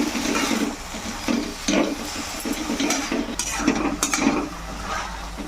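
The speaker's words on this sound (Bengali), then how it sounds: "এবারে কড়াইয়ের মধ্যে পালং শাকটাও ভালো করে সেদ্ধ করে নেবো নেড়ে চেড়ে" Spinach is stirred in a kadai as it cooks, with repeated scraping and clinking strokes of the utensil over a steady sizzle of simmering and frying.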